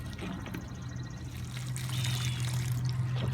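Water pours steadily from a container onto potted flowers, a continuous close trickle and splash that grows slightly fuller toward the end, with no voices.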